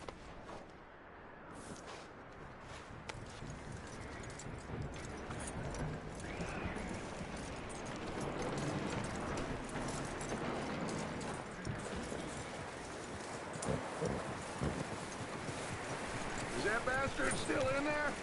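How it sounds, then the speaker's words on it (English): Horse hooves clip-clop steadily on the ground in the Red Dead Redemption 2 game, a continuous walking rhythm at moderate distance, running under scattered spoken dialogue and ambient outdoor noise. "That looks like a decent horse."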